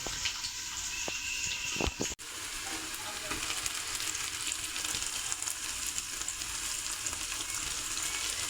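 Chopped onion dropped into hot oil for coconut rice, a loud close crackling sizzle after a few sharp clunks, then steady frying hiss throughout.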